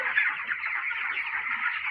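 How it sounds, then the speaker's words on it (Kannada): Chicken chicks on a poultry farm peep in a dense, continuous chorus of many high-pitched calls, steady and close throughout with no talking. "ಕೋಳಿ ಮರಿಗಳು"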